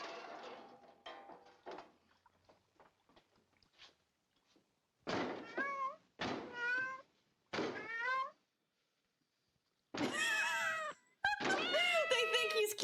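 A cat gives several distinct meows, loud and close, spaced out over a few seconds, with a cluster of sharper cries near the end after quieter handling noises and faint talk at the start.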